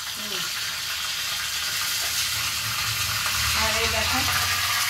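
Curry leaves dropped into hot mustard oil for tempering, giving a steady close sizzle and crackle that runs the whole time with faint clatter and low kitchen noise beneath.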